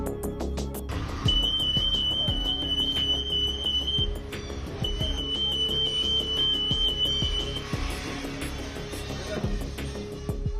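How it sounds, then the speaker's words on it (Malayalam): A shrill, steady electronic alarm tone rings in two long stretches over a busy, clattering indoor background. "വാതിൽക്കലിലുള്ള സെൻസറിൽ അലാറം മുഴങ്ങും"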